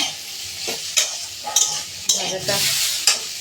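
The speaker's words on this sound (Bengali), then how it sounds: "এই যে ভাজাটা এখানে হচ্ছে, আলু উচ্ছে আর হলো বরবটি" Potato, bitter gourd and yardlong beans fry in a pan with a bright steady sizzle, punctuated by regular scraping clinks as a spatula stirs them, loud and close.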